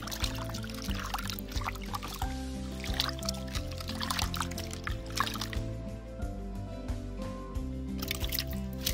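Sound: rinsing garfish with water in a pan

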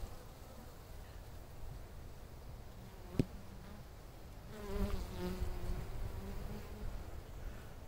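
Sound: honeybees buzzing in an open hive

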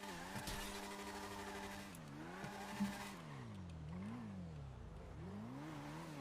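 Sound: car engine driving in a video game (GTA roleplay)

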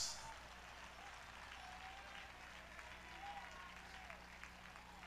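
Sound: congregation applauding

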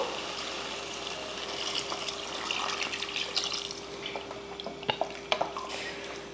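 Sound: pouring water into cooking pot

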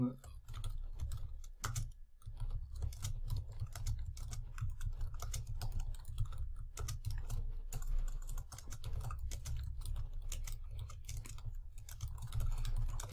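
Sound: mechanical keyboard typing

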